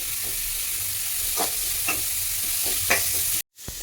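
Chopped onions sizzle steadily while being stirred in a pan for an egg curry, with a constant frying hiss and soft spatula scrapes close up, ending in an abrupt cut.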